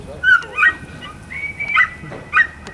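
A working sheepdog on a New Zealand sheep station near Queenstown gives several sharp barks and yips at sheep, close and loud in short bursts with pauses between.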